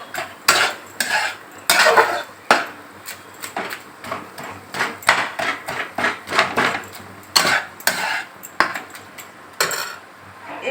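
Hilsa fish head and banana flower curry sautéed in a pan, with a ladle scraping and clanking against the metal in fast repeated strokes over a faint sizzle, loud and close, no voices.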